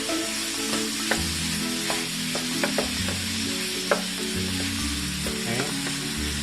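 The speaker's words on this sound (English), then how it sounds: "So saute it further. So you're hearing now the sizzles." Pork and chicken adobo sautés in a pan with a steady bright sizzle, broken by occasional sharp clicks and scrapes as the meat is stirred.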